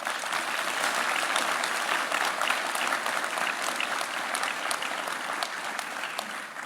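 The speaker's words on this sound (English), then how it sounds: "Let's recognize them with a round of applause." Steady applause from a large audience at a university commencement ceremony, dense clapping throughout with no break, heard clearly and close.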